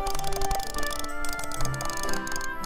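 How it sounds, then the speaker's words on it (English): A computer mouse is clicked very rapidly in a clicking game, making a dense run of close ticking clicks over a busy background of game sounds. "Listen to the sound of my clicking, guys."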